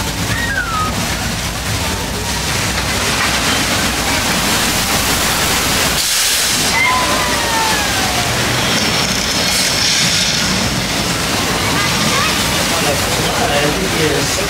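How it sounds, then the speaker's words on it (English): Thousands of gallons of recycled water released from tanks in a theme park flood effect on the Universal Studios Hollywood tram tour, a loud, steady rushing wash that briefly dips midway before surging on. "Is the result of thousands of gallons of recycled water being released from tanks way along the line."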